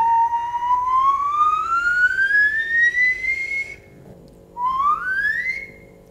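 A clear whistled tone glides slowly upward for several seconds, stops briefly, then a second shorter rising whistle follows, over faint background hum.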